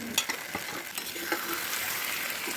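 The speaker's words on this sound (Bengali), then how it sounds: "মশলাটা আমি আবার ফ্রাই করে নেব। এর ভিতরে সিদ্ধ করা মাংসটা আমি দিয়ে দেবো।" Spice paste sizzling in a pan with boiled mutton being stirred in, a steady frying hiss broken by a few sharp scrapes and clinks of a spoon near the start, no talk.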